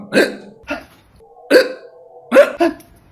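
Three sharp, abrupt hiccups spaced about a second apart, each with a short voiced catch, close to the listener.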